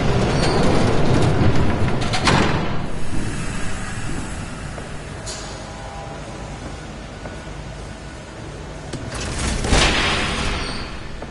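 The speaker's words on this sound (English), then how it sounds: "There's a train coming. Take cover." A train passes in the Batman Telltale video game, loud and broadband from the start, with a rumble that eases through the middle and swells again near the end, with no voices.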